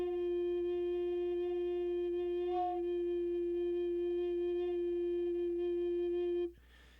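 A single low C is held on an F alto recorder, soft and steady for about six seconds before stopping, heard alone.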